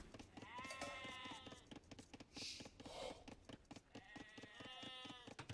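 Sheep bleat twice in Age of Empires II, each a wavering, harmonic baa of about a second, the first early and the second near the end, over a rapid ticking of game clicks and faint effects.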